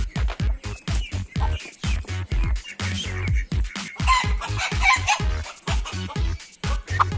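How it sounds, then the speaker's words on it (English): Loud, rapid flurry of honking and squawking fowl, a goose and a rooster clashing with repeated harsh calls and flapping close by. "Here's one of those terrifying geese again, this time bullying a rooster."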